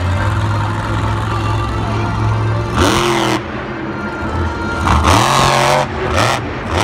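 The Jester monster truck roars through a Monster Jam skills challenge in Glendale: a loud, steady engine drone punctuated by three sharp revving surges, close and dominating, with no voices.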